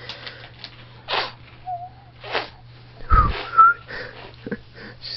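A small child makes breathy, wheezy little sounds with a tiny whistle slipping in, imitating a dog's woof, in short scattered bursts.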